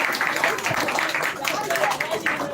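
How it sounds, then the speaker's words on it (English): Audience at a school children's literature festival poetry recitation clapping, a dense steady patter of applause sustained throughout with voices mixed in. "Clap here."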